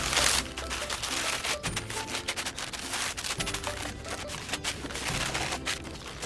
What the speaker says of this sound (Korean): 뿌리 없는 두글레아를 신문지에 잘 감싸줍니다